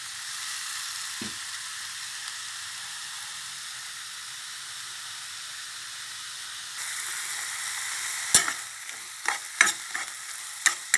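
Minced pork with dried chilies and seasonings sizzles evenly in a wok, then a spatula stirs it in several distinct scraping strokes near the end.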